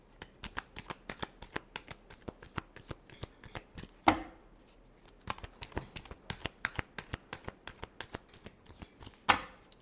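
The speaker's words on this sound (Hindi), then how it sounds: "last shuffle" Tarot cards riffled and shuffled by hand in a quick, steady run of close, crisp flutters, with a sharper card slap near the middle and another at the end.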